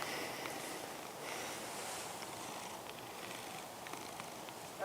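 A black feral cat purrs close up, a continuous low rumbling purr that keeps steady and soft throughout with no voices.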